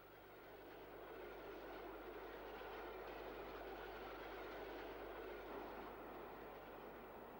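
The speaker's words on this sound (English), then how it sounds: "Former Central Division King Arthur, number 30796, Sir Dodinus Le Savage, heads an up train." A Southern Railway King Arthur class steam locomotive, number 30796, rumbles past hauling an up train near Wimbledon, a continuous heavy roar with faint rail clatter, steady and fairly distant.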